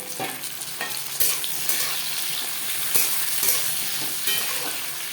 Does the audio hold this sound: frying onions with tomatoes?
yes